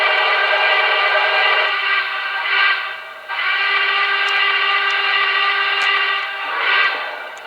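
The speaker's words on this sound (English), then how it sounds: "you do have the ability to quill this whistle, and the two others that come equipped with it" Paragon 2 Y6B model steam locomotive sounding its whistle in long, loud, steady chime blasts, one running several seconds before a brief drop and a second sustained blast.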